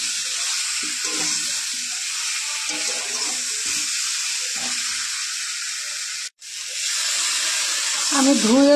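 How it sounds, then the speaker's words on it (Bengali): Water pours and splashes steadily while a spice-coated mixing bowl is rinsed out in a kitchen during curry cooking, a continuous close hiss with a brief break near the end. "আমি ধুয়ে জল দিয়ে দিচ্ছি"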